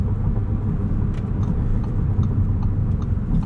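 A 2025 Audi S3 with a dual-clutch gearbox drives along, giving a steady low engine and road rumble heard from inside the cabin, smooth and continuous with no talking.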